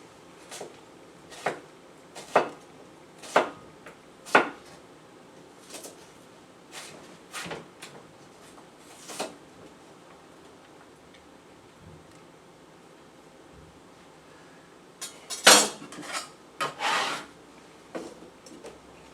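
A knife chops vegetables for salsa on a cutting board in a series of sharp, irregular thuds and scrapes, with faster bursts of cuts near the end and no talk.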